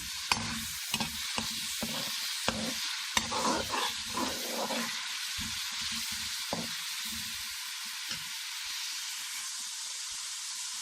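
Minced meat mixture for an egg and pea keema stir-fries in a hot pan, with a steady close sizzle and repeated spatula scrapes and knocks throughout, no voices.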